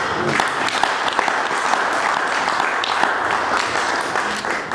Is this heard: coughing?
no